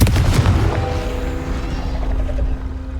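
A Confringo fire-blast spell in Hogwarts Legacy: a loud, sharp explosive burst at the start that decays into a lingering rumbling, ringing tail over a few seconds.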